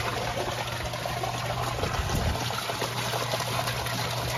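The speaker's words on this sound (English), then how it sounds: "those bubbles are the air stone that are being powered by that water pump" Continuous bubbling and trickling water from an air stone driven by a water pump in a prototype trompe aquaponics air system, steady and fairly close, with a low hum underneath.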